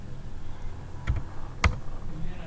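A few sharp key presses on a computer keyboard as the ls command is typed into a Linux terminal, two distinct clicks over a steady low background hum.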